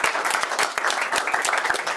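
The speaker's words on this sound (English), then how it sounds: "Round of applause for Lisa." Audience applause for a volunteer at a live magic performance, a dense steady burst of many hands clapping, fairly loud and close, lasting throughout with no speech.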